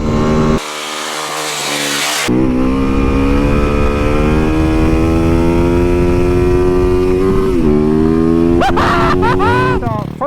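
A Suzuki DRZ 400SM motorcycle engine drones loud and close, its steady tone dipping and rising through the gears and ending with a few quick revs.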